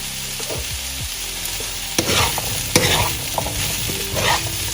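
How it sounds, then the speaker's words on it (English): Chickpeas being stirred in a hot pan, scraping spoon strokes and soft clatter over a steady sizzle, close and fairly loud. "Mix well."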